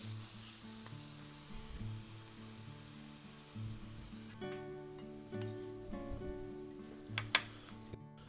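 King oyster mushrooms and green onions grilling in a pan make a faint, soft sizzle that grows a little busier partway through, with light tool scrapes and a low steady hum underneath.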